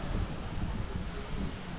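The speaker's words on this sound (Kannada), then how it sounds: "ತಂಪಾದ ಗಾಳಿ ಬರ್ತದೆ ಸಮುದ್ರದಿಂದ" Cool sea wind blowing at a seaside hotel room facing the sea in Pondicherry, a steady close rush of breeze and microphone buffeting with no voices.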